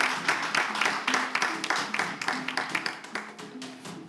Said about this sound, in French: On applaudit également.